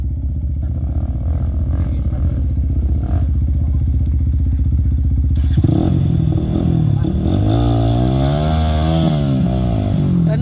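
A dirt motorcycle on a muddy red-earth mountain trail from Mt. Balagbag to Montalban, Rizal, idles roughly up close, then revs hard in loud, wavering surges as the rider strains, with voices faintly underneath.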